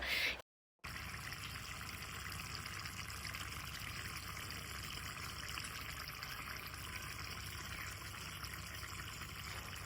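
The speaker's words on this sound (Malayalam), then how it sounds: "ഞാനിവിടെ ഒരു അര ഗ്ലാസ് വെള്ളം കൂടെ ഒഴിച്ചു കൊടുത്തിട്ടുണ്ട്" Half a glass of water poured into a pan of simmering sardine curry produces a steady, even watery rush that continues for several seconds after a short gap at the start.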